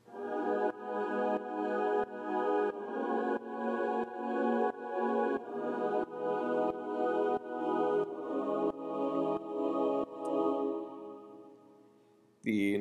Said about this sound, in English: The next thing I have here is a choir, copying the same chords that were on the supersaw.